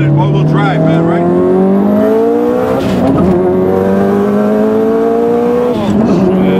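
A Subaru WRX STI drives along broken pavement, its engine droning loudly and steadily, with rising pitch as it revs and accelerates and a brief shift dip midway, close and continuous.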